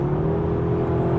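An Audi A3 S with a 333-horsepower engine gives a brief, steady engine hum from inside the car, with no talking.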